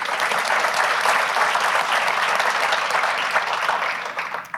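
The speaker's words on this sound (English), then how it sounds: "Clap for them." A room full of people at a chamber of commerce annual meeting claps loudly and steadily, the dense applause holding at a constant level before it trails off at the very end.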